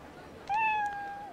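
A single clear, drawn-out cat meow from the video game Yakuza Ishin Kiwami, rising sharply and then holding steady, over a faint background hum.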